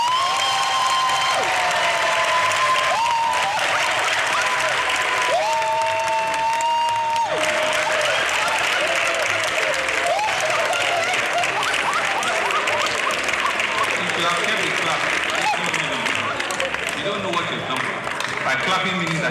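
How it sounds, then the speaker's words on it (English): A crowd claps steadily at a public event in Lagos. The applause runs throughout, with scattered cheers, and a voice speaks over it while some tonal whistles or calls cut in and out. "Clapping means that she's going to work twice as much."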